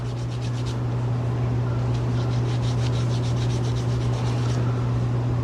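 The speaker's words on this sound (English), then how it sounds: "use my sanding stick here to try and get that more uniform" Steady, close-up rubbing and scraping of a sanding stick against a metal bezel-style necklace piece, continuous with faint rhythmic strokes over a constant low electrical hum.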